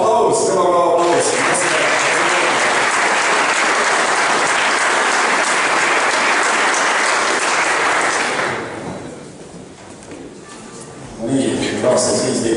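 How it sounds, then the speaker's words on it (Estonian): Loud crowd applause at an award ceremony for a Läänemaa folk rally, sustained and dense for about eight seconds, then dropping to a quieter murmur before swelling again at the end. "Aplaus, kõva aplaus."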